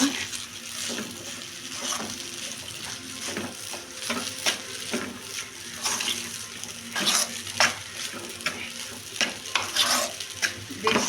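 Noodles are stirred in a frying pan over a low sizzle, with intermittent scraping and clinking of a utensil against the pan, close and moderately loud, in uneven bursts.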